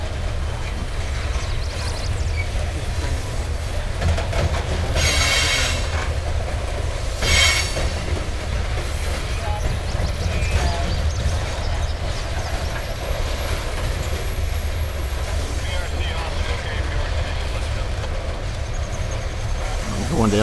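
Three CN locomotives haul a loaded grain train, producing a continuous loud rumble and wheel roar with faint clicking and a couple of brief high squeals, steady and close for the whole stretch, with occasional voices mixed in.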